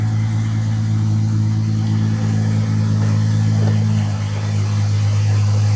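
A Jeep XJ engine starts and runs steadily close by with a deep rumbling drone after a manifold gasket repair, rising slightly in a brief rev near the end.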